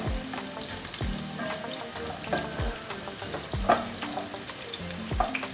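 Strands frying in hot ghee for an Egyptian kushari topping: a dense, continuous sizzle close by, with regular scraping strokes of a utensil stirring and separating them every second or so.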